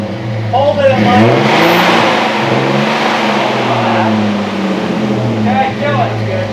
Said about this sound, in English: Whack the throttle a couple of times.